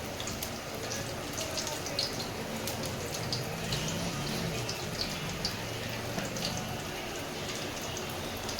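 Garlic frying in hot oil on a gas flame turned up full: a steady, dense sizzle and crackle with fine popping throughout, close and even.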